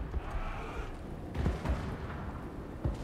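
Missile troops unleash volleys in a Warhammer 3 battle against Black Orcs, a dense rumble of muffled booms and gunfire cracks layered over continuous battle noise, mid-distance and steady without speech.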